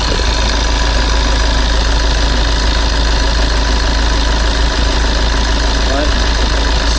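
A Lexus IS 220 engine idles steadily and loudly close by during an alternator test, a constant low rumble with a faint tapping knock, and a voice speaks over it.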